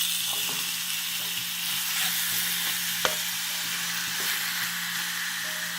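Chicken and vegetable fajitas sizzle on a hot micro-grill, a steady close-up hiss and crackle with occasional sharp pops and spits, continuing alone without speech.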